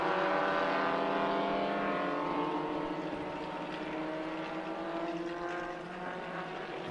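A classic rally competition car at the second stage of the São Paulo 2020 series roars past on its tenth lap, its engine note loud and close, sweeping downward in pitch as it passes and fades.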